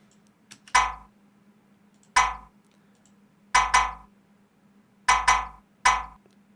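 A "Shawty Red perk" drill-beat sample plays six times in an uneven pattern: sharp metallic clinks, each with a brief low thump beneath, loud and isolated against near silence.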